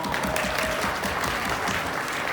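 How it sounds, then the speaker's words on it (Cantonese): Wedding banquet guests clap together in a dense, continuous round of applause that fills the hall evenly from start to end, with a faint voice underneath. "我哋俾啲掌聲嚟聽下先，好嗎？"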